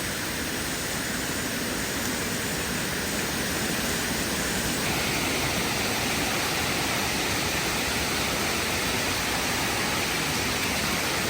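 Engkanto Falls pours with a dense, continuous roar of rushing water, steady and loud throughout with no voices.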